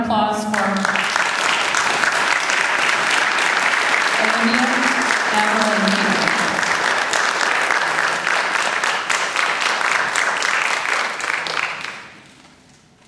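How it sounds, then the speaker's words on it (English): A large audience claps loudly and steadily for essay contest winners, the dense applause carrying on for about twelve seconds before fading out. A voice reads out names at the start, over the clapping. "one more round of applause for"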